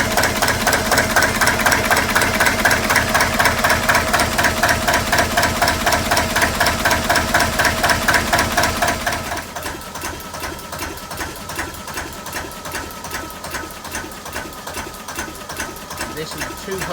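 An old stationary engine ticks over at about 250 RPM, giving a close, even, rapid mechanical knocking that is louder at first and then quieter, with a steady tick and no clear talking.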